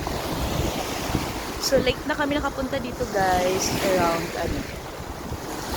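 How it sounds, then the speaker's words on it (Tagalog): Strong sea waves surge and wash onto a beach under a voice talking, with steady surf roar and wind buffeting the microphone throughout. "Malakas lang yung alon ngayon."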